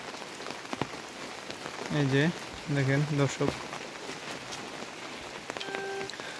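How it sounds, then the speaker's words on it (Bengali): Heavy rain falls on a village near a pond, a steady close hiss of drops on surfaces throughout, while someone speaks briefly over it. "অনেক পরিমাণ আসলে বৃষ্টি হয়েছে আমাদের এলাকায় আজকে।"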